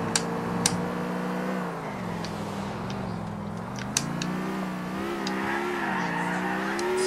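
A car in the video game GTA 4 drives fast with a steady, droning engine, while tires squeal and skid in brief bursts over the continuous road noise.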